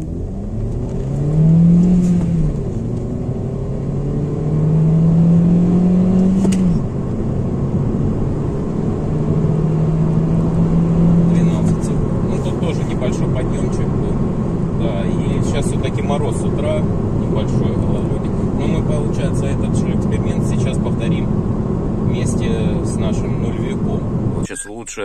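A Honda Civic 9 on winter tyres with a zero-resistance air filter accelerates hard toward 100 km/h, engine droning and rising steadily through gears inside the cabin, with continuous road and wind noise throughout.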